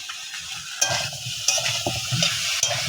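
Vegetables stir-frying in a pan with a sprinkle of turmeric, giving a steady close sizzle broken by several sharp scrapes and clinks of a spatula stirring against the pan.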